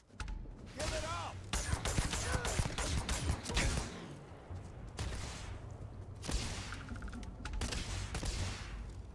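Gunfire in the space RPG Starfield: dense bursts of rapid shots and impacts through the first four seconds, then further volleys later, loud and close, with a voice speaking in between.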